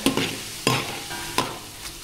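Oil sizzles steadily in a pan as garlic shrimp fry, with a few sharp bursts of crackling and stirring scrapes at regular intervals.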